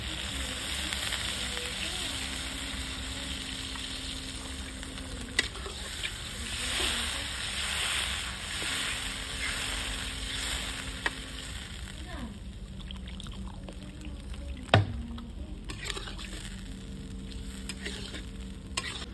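Water hits a hot frying pan while cooking aloo paratha with chicken liver, giving a steady low sizzle and bubbling with occasional utensil taps, and a voice speaks over it.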